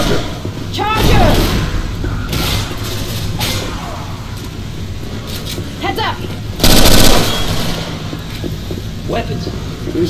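Gunfire in the video game Left 4 Dead rattles in repeated loud bursts, with a heavy blast midway through, amid shouting players and zombie chaos.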